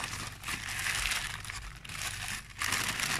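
Paper packaging from a shrimp parcel is crumpled up close, a dense rustling crinkle in bursts with short gaps.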